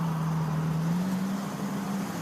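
A 1967 Mercury Cougar XR7 pulls away, its engine a steady low hum that rises slightly in pitch as the car gets moving, with no talk over it.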